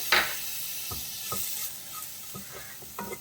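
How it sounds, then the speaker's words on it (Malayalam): Grated coconut roasting in a pan for a fish curry, stirred constantly: soft scraping strokes of a spoon against the pan come in a loose rhythm over a faint, steady sizzle. "ഇപ്പോൾ തേങ്ങ വറുക്കുമ്പോൾ നമ്മൾ കൈ എടുക്കാതെ തന്നെ ഇളക്കണം കേട്ടോ"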